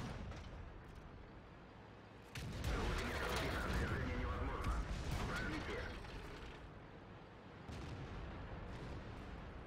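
Heavy booming tank cannon fire and mechanical clanking in World of Tanks, a loud sustained rumbling barrage in the middle with a fainter tail and a voice briefly audible.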